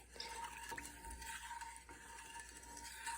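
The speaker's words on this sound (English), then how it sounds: "And you stir it, get it all dissolved." A spoon stirs sugar into sweet tea for kombucha, producing a soft, continuous scraping and swishing against the container, quiet and close with no voices.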